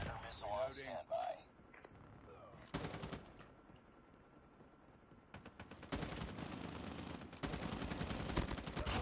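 A sentry gun in a mobile shooter game fires in rapid automatic bursts, first short and then in longer stretches of dense rattling, with some voice audio early on and a generally quiet overall level.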